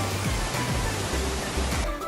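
Sarang Walet waterfall on Mount Rinjani gives a steady, loud, broadband roar of falling water that fills the whole stretch without a break.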